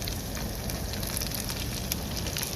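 Onions and garlic frying in a pan, a continuous soft crackling sizzle with scattered pops, close and fairly quiet, no voices heard.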